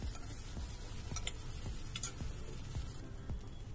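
Onion and tomato sautéing in a pan for a wet cashew curry make a soft, even sizzle, punctuated by regular light taps and scrapes of the stirring spoon.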